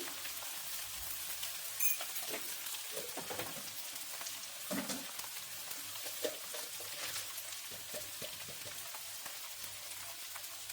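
Food seasoned with turmeric fries in a pan with a soft, continuous sizzle and occasional scrapes and clinks of stirring, close but fairly quiet, with no talking.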